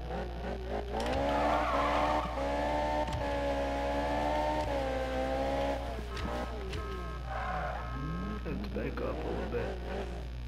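A Ferrari in Need for Speed races with a sustained, rising and falling engine whine and tire squeals, loud and close, while a person talks over it.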